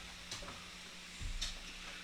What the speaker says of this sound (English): when you heard that sizzle